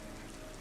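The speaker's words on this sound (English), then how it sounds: "some heavy rain today." Heavy rain falling, a brief dense patter of drops on a surface, steady and even with no voices.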